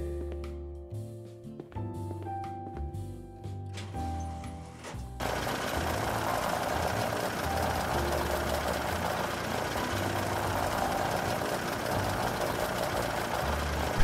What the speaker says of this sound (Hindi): ये ट्रैक्टर नहीं है, ये गाड़ी है गाइस। बट आवाज इसकी ऐसी है